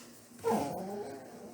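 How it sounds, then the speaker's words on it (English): A dog gives one short, close whine or yelp, then a low, fading tail of sound over faint room noise. "Okay, Henry, leave him alone so he could stop barking."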